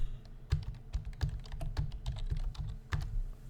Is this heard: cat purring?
no